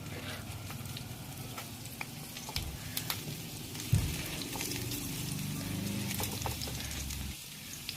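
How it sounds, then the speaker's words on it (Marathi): Steady sizzling of stuffed bitter gourd pieces frying in hot oil, a constant crackle with scattered pops and a brief clunk partway through, no talking. "तेल गरम झालं की यामध्ये आपण भरलेल्या कारल्याच्या फोडी घालणार आहोत"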